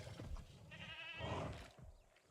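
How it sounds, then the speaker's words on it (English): A goat bleats once, a short wavering cry, among low rustling and thuds in the Jurassic World Evolution 2 game as a dinosaur hunts it, with no speech. "He's hunting. He's getting a goat,"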